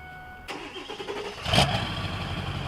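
A Ford F350 diesel pickup truck engine cranks and starts after its glow plugs warm up, with a sharp onset, a louder surge as it catches, and a steady rumbling idle afterward.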